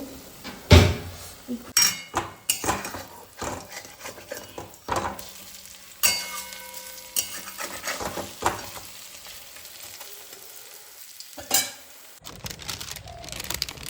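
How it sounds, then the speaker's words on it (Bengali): Bora fritters frying in a pan: a close sizzling hiss broken by repeated stirring scrapes and light clinks of utensils, with some louder knocks near the start and a quieter stretch toward the end. "আর এখানে হচ্ছে বড়া ভাজা"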